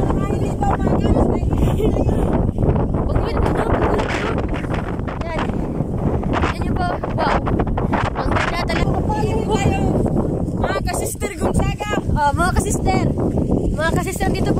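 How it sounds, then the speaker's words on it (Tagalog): Strong, cold wind on a foggy mountain viewpoint buffets the microphone steadily throughout, with people talking over the constant rumbling gusts. "Napakalakas na ng hangin dito."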